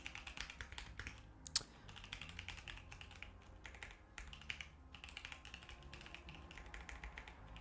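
Rapid, uneven keyboard typing during C and OpenGL game-engine programming, a steady stream of close clicky keystrokes with one sharper tap, alone with no talking.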